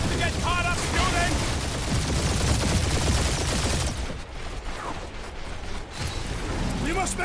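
Heavy gunfire and turret shots in Guardians of the Galaxy, a steady rattling barrage with clattering mechanical noise, continuous and loud for most of the stretch before briefly thinning, with voices heard over the battle.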